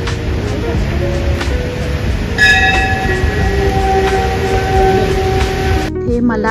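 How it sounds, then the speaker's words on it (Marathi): A train rolls past near a temple, a steady rumbling roar with a sustained horn-like tone in the middle, ending abruptly; a voice speaks briefly over it. "इथून आता ट्रेन पण जातीये"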